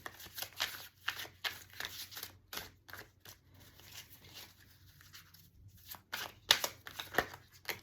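Tarot cards are shuffled and pulled in short, crisp riffling bursts, close and fairly quiet, broken by brief pauses and a few soft taps.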